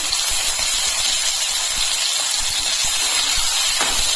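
Sliced onion and capsicum for chilli chicken sizzle in a hot pan, a steady bright hiss that runs alone for the whole stretch, with faint crackles and a soft stir near the end.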